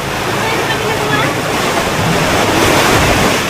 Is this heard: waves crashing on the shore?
yes